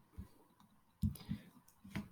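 A few sparse computer keyboard keystrokes, faint and close, spaced unevenly with quiet gaps in between.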